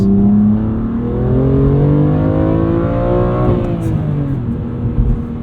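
A 2021 BMW M2 Competition with a six-speed manual revs hard, its engine note climbing steadily in pitch toward redline before dropping sharply at the shift, then droning on loud and close from inside the cabin.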